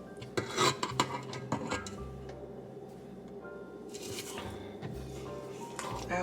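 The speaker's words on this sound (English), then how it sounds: "Scrape it from the sides and from the bottom." Spatula scraping strawberry pound cake batter from the sides and bottom of a mixing bowl, close rasping and scraping strokes with occasional utensil knocks, fairly quiet, no talking.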